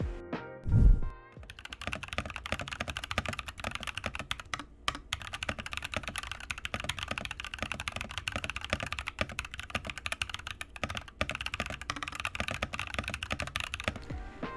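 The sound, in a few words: mechanical keyboard typing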